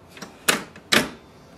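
An HP LaserJet M139we printer's toner cartridge chamber is pushed shut: a soft plastic tick, then two sharp plastic clunks about half a second apart, close and fairly loud.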